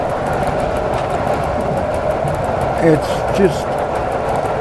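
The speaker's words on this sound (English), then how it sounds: "I love the sound going over these junctions, man." A train in the Polish railway sim Simrail rumbles steadily and then clacks twice as its wheels cross rail junctions, while someone talks over the running noise.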